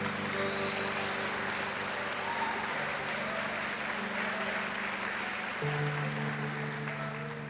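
A church congregation applauds in a large gathering, a dense continuous clapping that stays steady throughout, mixed with a sustained musical tone underneath.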